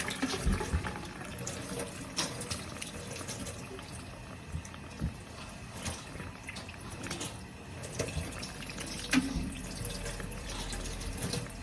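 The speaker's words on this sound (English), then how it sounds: "And make sure we wash our hands really well." Running tap water splashes steadily into a sink as hands are washed after removing gloves, a continuous close wash with small splashes and drips throughout and no talking.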